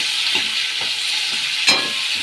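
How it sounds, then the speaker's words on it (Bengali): Capsicum and mushroom fry in a pan with a continuous bright sizzle, broken by several soft scraping stirs of a spatula and one louder scrape near the end. "এটা একটু ভাজা ভাজা করে নিই"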